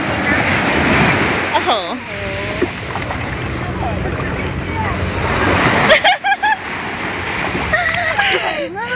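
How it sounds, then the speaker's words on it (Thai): Sea waves wash and splash at Karon Beach in a continuous surf rush with wind buffeting, while someone talks over it. "ตอนนี้นะคะดูน้ำทะเลสิ มีคลื่นอ่ะ"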